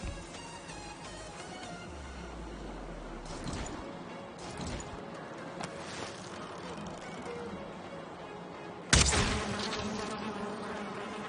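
Bees buzzing in a video game, a continuous droning hum with a low rising tone early on and a sudden loud crash near the end.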